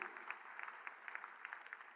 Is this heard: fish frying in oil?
no